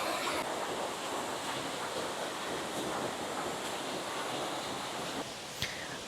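Water flows along a river in a botanic garden, a steady, broadband rush that stays even and fairly close throughout, with a faint brief click near the end.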